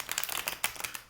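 A deck of tarot cards is shuffled by hand in a string of quick, soft riffling flicks and taps, close and fairly quiet, with no talking.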